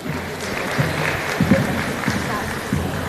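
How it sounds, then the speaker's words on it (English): Pageant audience at the Miss Eco International crowning night applauds for the Ukrainian contestant, a steady, moderately loud clapping wash beneath a host speaking. "How about a big round of applause for Miss Eco,"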